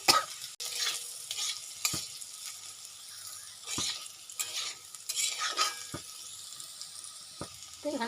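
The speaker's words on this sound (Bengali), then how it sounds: "তো এখানে এই যে আলু ভাজা হয়ে গেল, কমপ্লিট" Potatoes frying with salt and turmeric, a quiet sizzle broken by repeated stirring scrapes and knocks of a spatula in the pan, close and intermittent, no talk.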